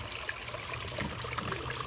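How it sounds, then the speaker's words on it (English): Water trickles and flows steadily through an aquarium filter used for turtles, fish and snails, a soft continuous splashing burble heard close up with no voices. "The water is flowing in the bottom and it's not overflowing to the top"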